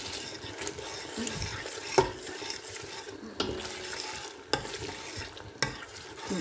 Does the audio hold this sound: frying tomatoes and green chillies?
yes